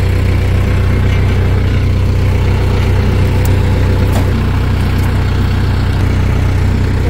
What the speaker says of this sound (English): Lovely part of a TYM tractor.